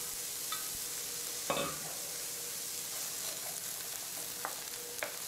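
Onion and garlic sizzle quietly in hot oil in a pan, a soft steady hiss broken by a few sharp utensil clinks and scrapes as they are stirred.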